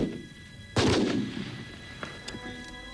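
Gunfire from Israeli special forces: one sharp, loud shot booms and rolls off into echo, followed by a couple of fainter distant cracks.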